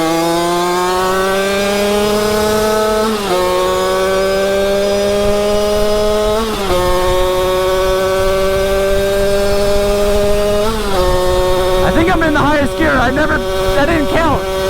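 A gas Surron dirt bike engine held at full throttle in sixth gear, a loud, close, steady buzzing drone that dips briefly at intervals, with people talking over it near the end.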